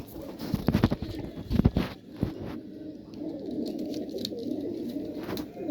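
Several pigeons coo close by in low, throaty bursts, with a few louder calls early on, then a softer continuing murmur of cooing and shuffling.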